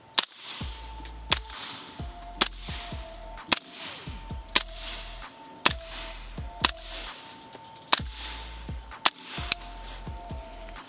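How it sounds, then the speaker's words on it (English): A suppressed pistol fires 147 grain ammo at a range, about a dozen sharp muffled cracks in a quick, fairly even cadence, close by, with faint mechanical clacks between shots. "That's me shooting it a little bit faster than trying to aim in it."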